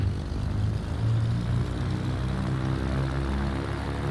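Twin piston engines of a Cessna 310R in a flight simulator run up to 1700 RPM on the ground, a steady, loud propeller drone with a low throbbing beat and no talking.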